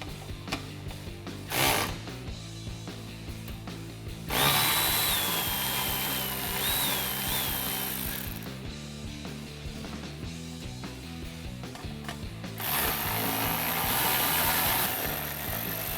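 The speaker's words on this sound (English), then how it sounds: "So our first step is going to be to remove our 4" Ratchet clicking in repeated bursts as four 7mm screws come out of the rear of a 2016-2022 Chevrolet Camaro during a diffuser install, the pawl rattling close and loud with short pauses between runs.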